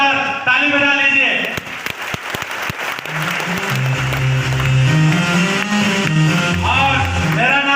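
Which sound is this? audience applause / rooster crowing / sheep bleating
audience applause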